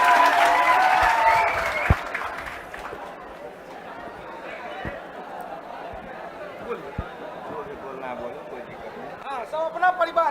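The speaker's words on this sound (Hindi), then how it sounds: "एक बार महिला बटालियन जोरदार ताली" Members of a women's battalion clap loudly together for a couple of seconds, then the applause dies away and people talk over faint background chatter.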